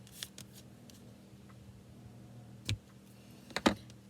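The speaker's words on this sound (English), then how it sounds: "with my shears, give that a little trim" Shears trim a paper strip for a handmade stamped card, making a few quiet crisp snips, a faint one at the start and two sharper close cuts near the end, in a still room.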